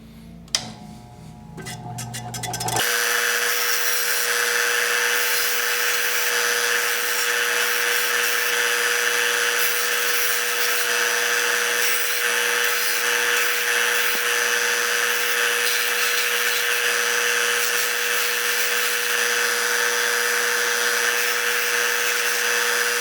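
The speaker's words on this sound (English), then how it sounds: "We're just going to sand this down real quick and make the outsides look pretty again." A power sander works over a small wooden guitar pick holder, a loud, steady high whir running without pause after a few seconds of quieter handling sounds.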